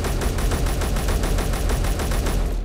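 Rapid, evenly spaced gunshots from a weapon in Space Engineers pound out a steady automatic stream, loud and close, with no talking.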